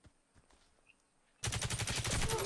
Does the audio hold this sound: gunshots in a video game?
yes